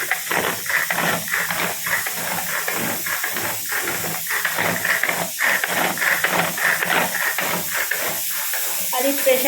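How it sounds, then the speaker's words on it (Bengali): A pressure cooker on a home stove vents steam with a continuous close hiss, while a voice talks intermittently over it throughout. "আর এই প্রেশারটাকে আমি কখন বসিয়ে গেছি, সিটি বন্ধ করে দিলাম।"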